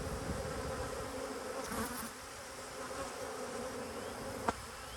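Honey bees hum around a row of hives at an apiary, a continuous soft buzzing drone outdoors with a single sharp click near the end.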